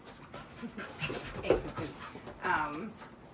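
Panting and whimpering from an excited young puppy during play, with soft breathy pants and a couple of short whines up close, over low background noise.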